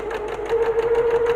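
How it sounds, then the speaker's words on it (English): A sewing machine runs in reverse, a steady close whirring hum with a rapid rhythmic needle pulse over a short stretch, alone without voices. "hold it down the whole time you want to go backwards, and the machine should sew backwards"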